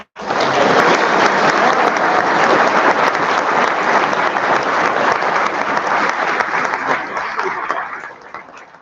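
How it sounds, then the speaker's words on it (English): An audience at a physical therapy white coat ceremony gives a loud, sustained round of applause, many hands clapping densely for about eight seconds before it tapers off. "Let's give him a round of applause."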